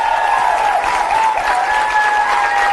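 A studio audience on a television show applauds a band, a loud, steady wash of clapping with a sustained tonal sound running underneath.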